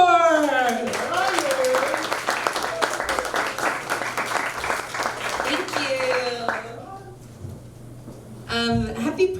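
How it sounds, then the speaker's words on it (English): An audience claps for comedian Liz Davenport at a Pride comedy show in a Richmond community cafe, scattered hand clapping and cheers under a loud announcer's voice, fading before a brief burst near the end. "Give it up, start clapping for Liz Davenport!"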